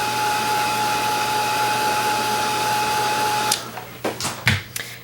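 A hair dryer blows steadily at close range to dry fresh acrylic paint on a fuzzy Christmas stocking painting, a constant whirring hum that cuts off abruptly partway through, followed by a few brief knocks and handling sounds.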